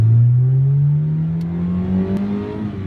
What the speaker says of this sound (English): That was an RS3 there.